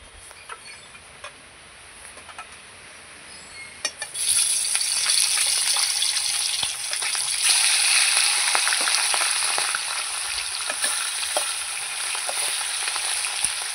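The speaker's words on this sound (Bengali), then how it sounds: "এবার মাছ ভাজা করে নেব। আমি প্রথমে মাথাগুলো ভেজে নেব।" Fish heads sizzle in hot oil in a wok, a soft crackle that jumps to a loud, dense, steady frying hiss partway through and holds with small pops, with no voices.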